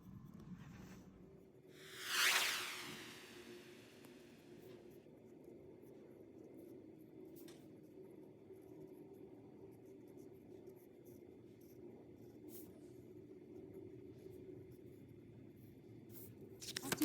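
Oil pastel transferred onto paper for a monoprint as a drawing tool traces the outline of a leaf: quiet, close scratchy strokes over paper after a brief louder rub, with faint steady background hiss.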